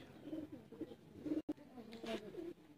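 Pure teddy pigeons coo softly in repeated low, throaty phrases, close by and gentle, with a brief gap partway through.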